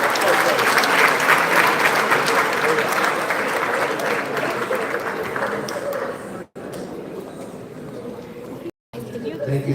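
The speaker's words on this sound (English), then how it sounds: "Another warm round of applause for welcoming this wonderful dance group." A crowd gives a dance group warm, steady applause at a devotional Krishna performance. The clapping is loud and sustained, mixed with crowd chatter, and eases off slightly toward the end with two brief dropouts.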